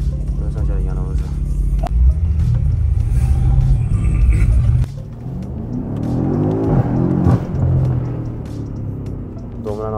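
A BMW M5 F90 engine revs loud and close, deep rumbling throttle blips rising and falling with a whirring drop midway, while people talk faintly in the background.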